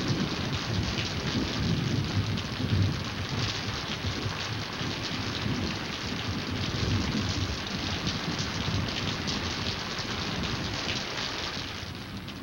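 Heavy, steady rain pours throughout a 1941 cartoon, with rumbling thunder underneath and no voices.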